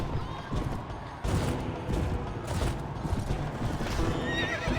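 Horses neigh and hooves clip-clop across a battlefield in the Mount & Blade Warband video game with the Floris mod, the sounds loud and close over a dense, continuous mix of game noise.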